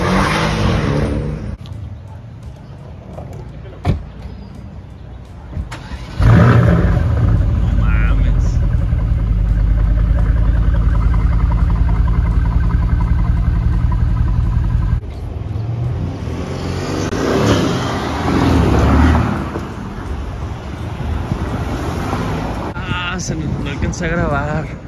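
McLaren sports cars, a 600LT and a 570, rev their engines loudly as they pull in, with a sustained roar that swells and drops over several seconds while people talk excitedly nearby.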